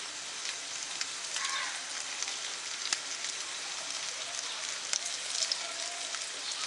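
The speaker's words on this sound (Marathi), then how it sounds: "मंद आचेवरती व्यवस्थित दोन्ही बाजूने खरपूस भाजून घेऊया," Pomfret fish frying in a pan over a low flame, a steady soft sizzle with faint crackles and small pops throughout, quiet and even.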